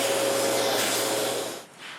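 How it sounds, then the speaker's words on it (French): Vacuum cleaner running over a dirty screen door frame, a loud, steady, close-up hiss and whir that dips briefly near the end as the nozzle moves. "On doit y passer l'aspirateur."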